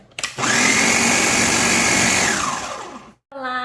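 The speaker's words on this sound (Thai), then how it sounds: "ทำการปั่นให้เข้ากันนะจ๊ะทุกคน" A blender whirs loudly for about three seconds while mixing rice and molasses for mushroom spawn, starting after a couple of knocks, then winding down before a voice speaks briefly.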